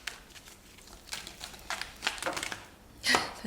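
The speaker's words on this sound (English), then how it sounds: "let's go ahead and shuffle these cards right here" Tarot cards being shuffled by hand, a run of soft papery riffles and flicks building to a louder burst near the end, close and quiet with no talking.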